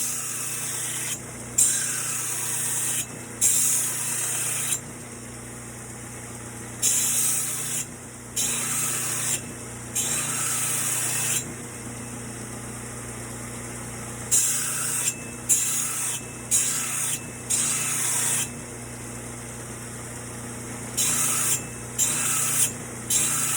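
A belt sander grinds an axe edge on an 80 grit belt, a loud abrasive rasping hiss in repeated passes of a few seconds each, separated by short quieter gaps with a steady motor hum underneath.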